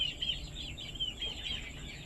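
Young Thai native black chickens, a big-footed backyard breed about three months old, give soft, repeated high-pitched clucks and peeps, fairly faint, with short calls recurring over a low steady background.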